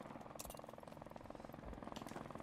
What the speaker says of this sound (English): Got another heli again.